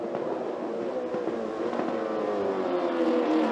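Stock Car race cars accelerate at a restart in Santa Cruz do Sul, engines rising in pitch in a continuous moderately loud drone, with layered revs from several cars and no voices.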